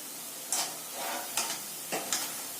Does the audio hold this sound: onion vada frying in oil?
yes